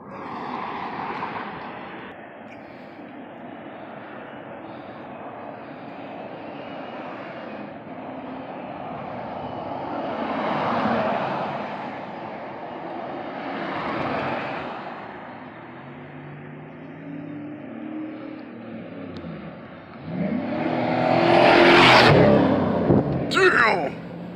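A 1995 Chevrolet Silverado C1500 with a swapped 5.3 V8, 4L60E transmission and a new street tune drives past, engine rumble building and fading with a loud rising pass near the end.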